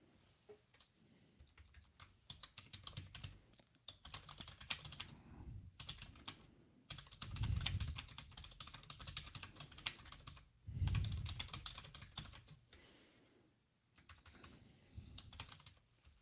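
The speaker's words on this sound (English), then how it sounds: "Quieter keyboard." Fast, steady typing on a quieter computer keyboard, with soft, even key clicks that carry on for the whole stretch and a few louder low thumps partway through. No one speaks.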